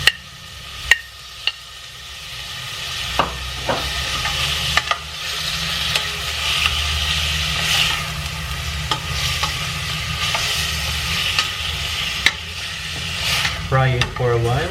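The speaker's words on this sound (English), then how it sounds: "Fry it for a while until it's a little bit golden brown." Tomatoes frying in a pan for sinigang soup, a steady close sizzle with occasional sharp clinks of a utensil against the pan and a brief voice near the end.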